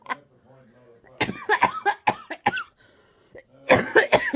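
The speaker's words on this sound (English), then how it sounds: "I got cough now" A person coughs repeatedly in short, close bursts, a cluster of harsh coughs, a pause, then another burst, with some voice mixed in.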